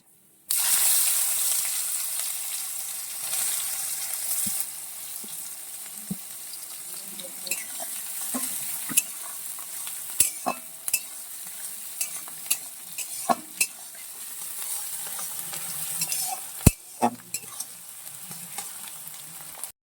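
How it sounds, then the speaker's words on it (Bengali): Chopped onions fry in a pan with dried red chilli and cumin, a steady bright sizzle broken by frequent sharp clacks and scrapes of a spatula stirring, no voices. "তো আমাদের পেঁয়াজ লাল লাল করে ভাজা হয়ে গেছে"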